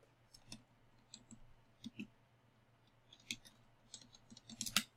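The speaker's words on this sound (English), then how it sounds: "Let me just type in Level Rewards" A computer keyboard being typed on, with scattered soft clicks that speed up into a denser burst near the end, close and quiet over a faint steady hum.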